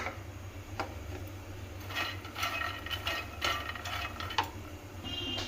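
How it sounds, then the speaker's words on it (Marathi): Makhana fox nuts roasting in a pan on a gas stove, with light scattered clicks and rattles of the nuts shifting against the metal over a steady low hum, close and fairly quiet. "इथे मी गॅसवरती पॅन ठेवलेला आहे, त्याच्यामध्ये आपण आता मखाने घालून मखाने थोडेसे भाजून घेऊयात"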